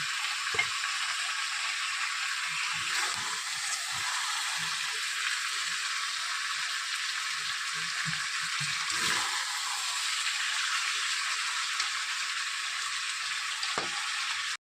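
Chicken leg pieces fry in a pan for a desi murga curry, giving a steady, close crackling sizzle with occasional stirring scrapes throughout.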